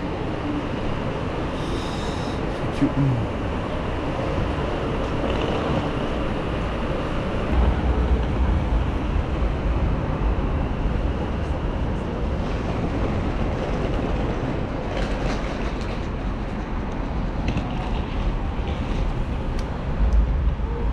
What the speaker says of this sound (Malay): Jom naik MRT.